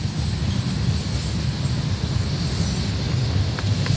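A fast CSX freight train rushes past at close range, a loud, steady roar of rolling wheels and rail noise that fills the whole stretch without letup.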